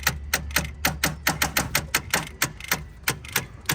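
Rapid, regular clicking from the starter of a Mitsubishi Eclipse car, about four sharp ticks per second, repeating steadily over a low hum at moderate level with no voices.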